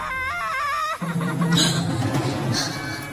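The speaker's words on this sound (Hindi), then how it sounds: "ये किसकी रोने की आवाज है?" A voice wails and sobs in drawn-out, wavering cries, with a busy backdrop of other sounds and voices underneath.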